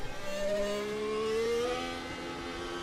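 A 2026 Formula 1 car in the Assetto Corsa racing game screams with a high, whining engine note that climbs and shifts pitch over a few seconds, heard alone and fairly quiet.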